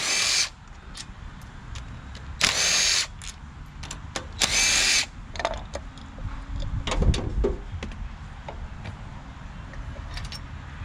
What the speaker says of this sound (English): I know not everybody has power tools, but I'm going to use it for the tear down